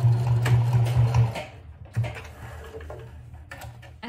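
A sewing machine back stitches a fabric bag in a rapid, steady burst for about a second and a half, then stops, with a brief restart and faint handling after.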